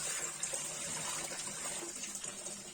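Water pours and splashes steadily out of a one-litre glass jar of cherries, a continuous close gushing stream like a running tap, with no voices.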